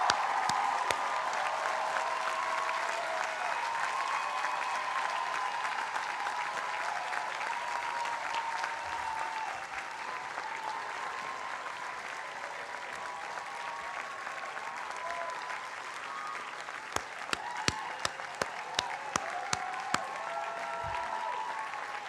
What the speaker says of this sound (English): give a round of applause to those who helped you on this journey